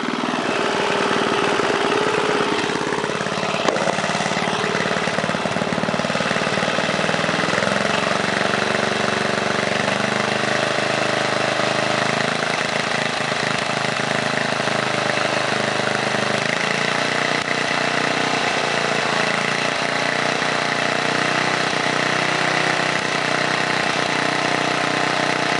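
A 1978 Tecumseh HM80 8 hp engine on a John Deere runs steadily at half throttle, a loud, continuous close-up drone with no pauses.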